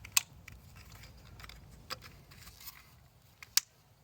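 A few sharp clicks of spark plug wire connectors being pushed onto car spark plugs, scattered and fairly faint over a quiet background.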